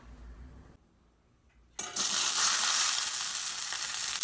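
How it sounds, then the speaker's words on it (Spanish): Onion and garlic dropped into hot oil in a frying pan, a brief clatter and then a loud, steady crackling sizzle that continues to the end, close up with no talking. "Ahora en un sartén ya calientito vamos a agregarle un poquito de aceite. Aquí le vamos a agregar la cebolla y los 2 dientes de ajo."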